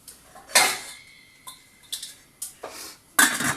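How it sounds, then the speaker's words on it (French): A lid set on a cooking pot, a few sharp metallic clinks and knocks spaced unevenly over a few seconds, close and moderately loud in a quiet kitchen. "je vais mettre un couvercle"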